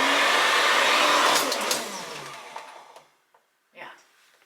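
A built-in hotel hairdryer at Disneyland Paris Newport Bay Club blows with a loud, steady whoosh, then fades out as it shuts off, followed by brief handling sounds and a short voice.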